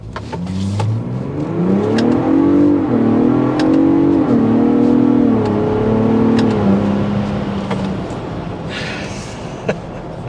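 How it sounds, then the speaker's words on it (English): A 2023 Ford Bronco Raptor with an EcoBoost twin-turbo engine accelerates hard from inside the cabin, its engine note rising and falling through gear changes, loud and continuous, then easing off near the end. "that EcoBoost twin turbo will put a smile on your face"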